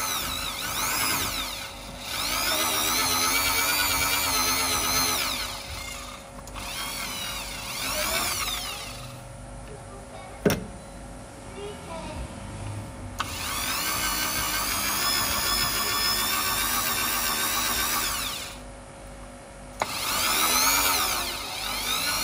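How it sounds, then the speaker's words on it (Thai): A low-speed polishing machine buffs polishing compound into the finish of an upright piano, producing a steady whirring drone in long runs, close and loud, broken by short pauses and a few sharp knocks. "นี่ผมใช้ตัวนี้ในการขัดสีรถอยู่แล้ว เอาน้ำยาป้ายแล้วก็ขัดเลยครับ ไม่ต้องเปิดรอบสูงนะครับเปิดรอบต่ำๆก็พอค่อยๆขัดไปเรื่อยๆ"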